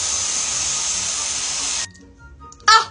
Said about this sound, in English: the curling wand.